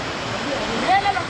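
Sai Rung waterfall in Khao Lak pours as a close, steady rushing hiss of falling water, with a brief gurgling splash near the end.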